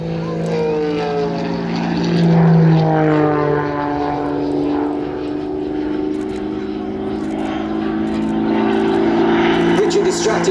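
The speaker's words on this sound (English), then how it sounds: "this aircraft has 2 jet engines on the side of the airframe" An aerobatic propeller aircraft drones loudly overhead at the 2024 D-Day 80th anniversary air display at Duxford, its engine pitch rising and falling as it maneuvers, with a voice speaking over it.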